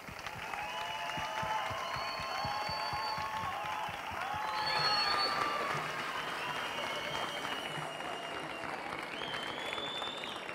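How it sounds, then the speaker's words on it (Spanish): Steady audience applause welcomes a speaker at a town festival presentation ceremony, sustained clapping throughout with whistles and voices faintly mixed in. "Recibamos con un fuerte aplauso a Joaquín Talaya Pérez."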